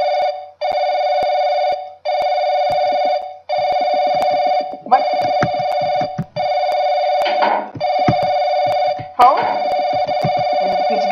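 Telephone ringing in the horror video game Paranoic, a loud electronic tone in regular repeating bursts with short gaps between them, while someone talks and mutters over several of the rings.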